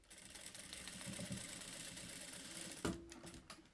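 A sewing machine stitching fabric for a child's waist bag, running in a quiet, steady mechanical whir of rapid needle strokes, ending with a sharp click and a few brief knocks.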